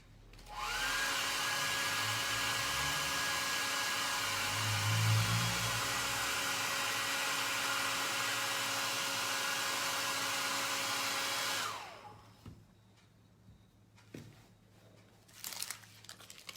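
A hair dryer blows steadily on a freshly painted plaster figure of a boy, loud and close for about eleven seconds, then switches off, leaving faint handling sounds and small knocks.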